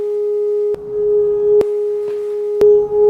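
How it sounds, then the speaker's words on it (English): A steady pure electronic sine tone hums continuously, broken by a few sharp clicks at irregular intervals. "we can verify our work by listening to the two tones"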